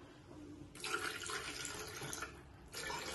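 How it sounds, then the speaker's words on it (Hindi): Water pours into a glass while salted lassi is being made, a steady broadband splashing stream that starts abruptly, runs almost continuously with a brief dip, then surges again, close and moderately loud with no talk. "फिर हम डालेंगे पानी"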